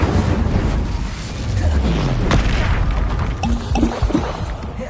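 A Confringo spell explodes in Hogwarts Legacy, landing as a deep, loud boom with rumbling blasts and debris. The blasts come amid game effects, with faint speech-like sound in the mix.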